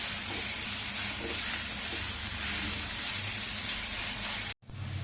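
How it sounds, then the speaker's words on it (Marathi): Ginger, garlic and green chilli thecha paste frying in hot oil, a steady close sizzle and hiss that runs without a break for several seconds before cutting out briefly near the end. "ठेचा चांगला परतवून घ्यायचा तेलावरती"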